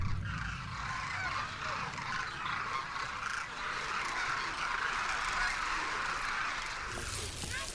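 A flock of cranes wintering in the desert town of Kichan calls continuously, a dense chorus of honking bird voices filling the air at moderate distance, steady throughout.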